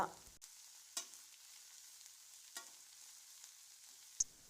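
Mint, green chilies and coriander fry in peanut oil with cumin, heard as a faint, quiet sizzle broken by a few sharp scraping stirs.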